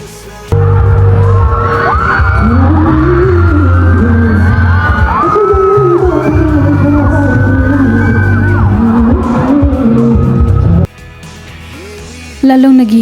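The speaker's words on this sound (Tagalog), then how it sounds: "maririnig ang hiyawan ng mga girls dahil sa kilig nila sa binata" Girls scream and cheer excitedly as a young singer performs before a crowd in Davao, loud shrieks and whoops riding over amplified music and booming bass, breaking off briefly near the end.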